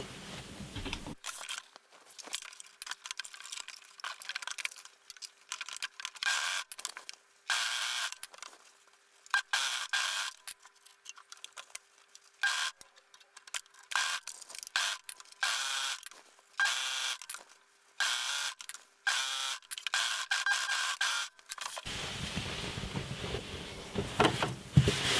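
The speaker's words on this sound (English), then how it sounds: "Now I'm going to sew it together using my overlock." An overlock sewing machine stitching stretched ribbing onto a knit tank top, quick bursts of rapid mechanical whirring and clatter that start and stop repeatedly, close by, ending in a steadier run.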